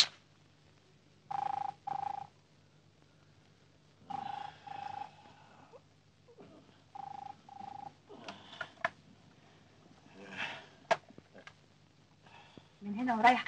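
A telephone rings in an apartment in repeated bursts separated by short pauses, with people talking nearby.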